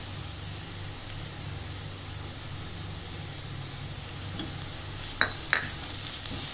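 Crushed ginger and garlic frying in a pan, a steady low sizzle and hiss running throughout, with two sharp clinks of a utensil near the end.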